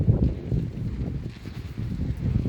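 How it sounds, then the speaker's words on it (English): Low, rumbling wind buffeting the microphone in a garden, a steady blustery roar with gusts throughout and no talking. "It's quite windy."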